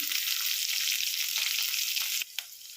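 Onions and green chillies fry in hot oil with curry leaves for a hotel-style tomato rasam, giving a loud, steady sizzle that drops away sharply near the end, followed by a brief clatter.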